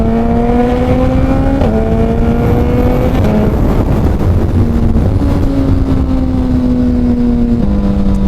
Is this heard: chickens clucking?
no